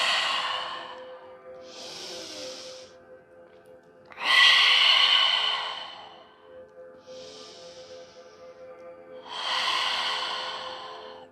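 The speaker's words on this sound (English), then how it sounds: "Lion's breath." Forceful open-mouthed yoga exhales of lion's breath, three long breathy hisses with softer inhales between, close and alone over a faint steady hum.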